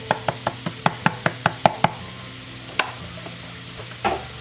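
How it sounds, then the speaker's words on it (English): Mushroom filling with dried parsley sautés in a pan, with a steady sizzle under about nine quick, evenly spaced stirring scrapes, then a few sparser ones. "We're just going to saute for another minute or so."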